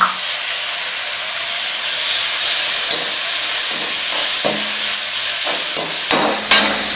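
Two small chopped tomatoes frying in ghee in a pan for foxtail millet khichdi, a loud steady sizzle and hiss with a few faint scrapes of stirring, no voices.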